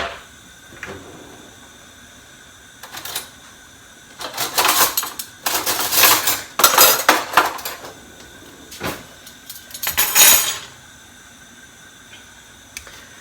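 Steel silverware spoons clink and clatter against dishes in a home kitchen during porridge preparation, with several loud clustered bursts of metallic rattling and quieter gaps between them.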